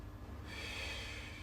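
A steady inhalation during a Pilates exercise on a Swiss ball, with a soft, airy breath swelling in the middle and holding for about a second, close and quiet over low room hum.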